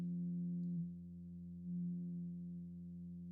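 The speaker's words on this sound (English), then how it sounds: "And we're back to a sine wave." A sustained, pure synthesizer sine wave tone, filtered back from another waveform, holds steady, swelling slightly in loudness once or twice with no other sounds.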